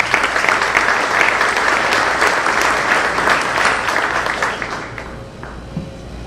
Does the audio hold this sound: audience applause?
yes